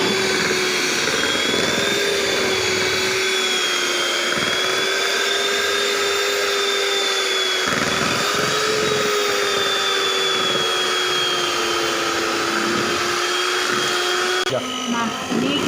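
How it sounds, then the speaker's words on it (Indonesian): An electric mixer whirs continuously while beating brownie batter, a loud steady motor whine holding nearly constant pitch throughout, with a voice speaking under it. "Kalau dia sudah mengembang, berarti kita sudah bisa mematikan mixernya."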